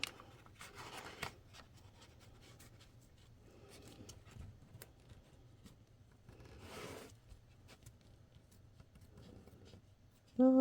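Scissors trim fabric along a sewn line on a double pocket card holder, giving soft intermittent snips and rustling cuts in short bursts, quiet and close with a hushed background.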